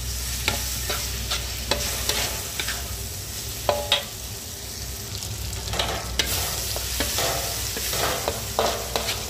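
Sambal spice paste being stirred in a frying pan, a steady low sizzle broken by scattered sharp spatula scrapes and knocks against the pan over several seconds, close and with no talking.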